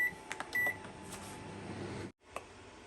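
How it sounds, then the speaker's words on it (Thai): A microwave oven set to 500 watts for one minute heats yakisoba noodles with a low steady hum and a few short beeps, then stops abruptly. A faint click follows the silence. "เข้าไมโครเวฟนะคะหนึ่งนาทีค่ะ ห้าร้อยวัตต์"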